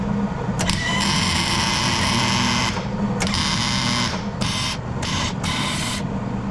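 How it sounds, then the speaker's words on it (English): A welder works on a Nissan 350Z drift car in a garage, giving a loud, steady, buzzing crackle that runs in several long bursts with short pauses between them. "We're gonna attempt to start welding now."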